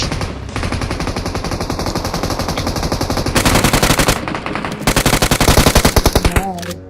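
Rapid automatic gunfire in the battle royale game BGMI, loud close bursts of rattling shots that pause briefly, then resume in a second burst before cutting off.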